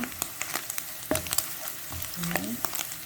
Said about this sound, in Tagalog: pa-fry lang natin ito na hanggang light golden brown